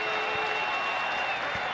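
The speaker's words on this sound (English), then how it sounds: "this crowd making some noise at Globe Life Park" Baseball crowd at Globe Life Park roaring steadily as a Rangers pitcher faces a Tigers batter, a dense continuous wash of cheering and applause with no voices standing out.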